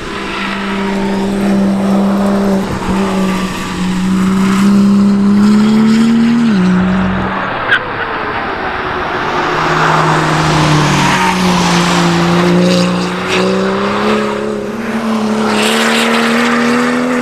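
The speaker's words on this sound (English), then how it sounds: "The brakes locking up a little bit because of the dampness." A BMW M2 GTS race car on a damp track, heard from onboard as a loud continuous engine drone that shifts pitch as the brakes lock up, with brief tire scrubbing and no talking.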